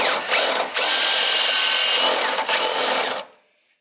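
A power drill runs loud and steady for about three seconds, drilling holes in a Mustang rear wing, with two brief dips in pitch as it bites, then winds down and stops.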